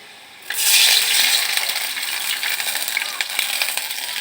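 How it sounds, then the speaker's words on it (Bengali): A spice paste fries in a pan: after a brief quiet start, a loud hissing sizzle bursts up and carries on at a steady level with small crackles and faint rattles, close by and without voices. "এখন আমি নামিয়ে নিয়ে মশলাটা কষিয়ে নেব। ভাজা ভাজা হয়ে এসেছে"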